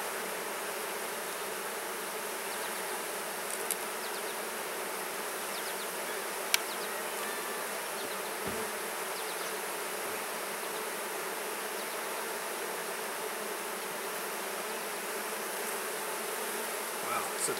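Honey bees buzz around an open hive frame of nectar, a steady, dense, close hum that holds evenly throughout with no voices.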